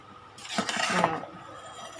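A spoon scrapes and clinks against a pot while stirring split mung beans in water and a sweetened flour mixture, a brief run of soft scraping ending in a sharp clink.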